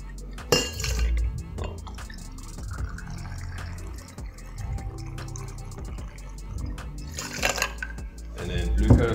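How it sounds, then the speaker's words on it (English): A shot of vodka poured into a cocktail shaker, with glassy clinks and a short splash of liquid among handling knocks and a few scattered voices. "First, grab your vodka, one shot into your shaker."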